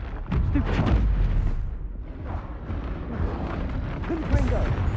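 Confringo fire spell blast in Hogwarts Legacy combat: a low rumbling burst of explosive noise with crackling debris, fairly loud and sustained, with a second thump near the end amid game effects.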